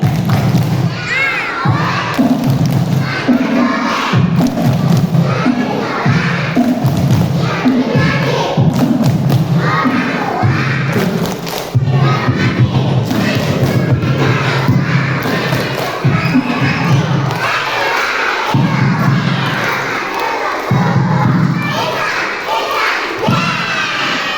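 A group of kindergarten children at a storytelling session claps in rhythm and chants loudly together. Their thumping claps and shouted voices continue for over twenty seconds.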